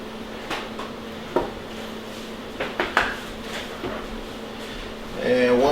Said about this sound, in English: I'm just going to go ahead and use the same spatula, get as much off there as I can